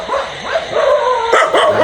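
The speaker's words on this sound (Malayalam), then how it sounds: "ഫുള്ള് പട്ടികൾ വന്നു" Dogs bark and yip excitedly close by at night, several quick overlapping barks with whiny tones.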